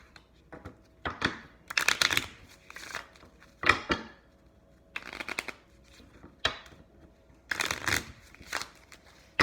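Tarot cards are shuffled close by in a series of quick riffling and sliding bursts with short pauses between them, the sound crisp and papery and heard alone without speech.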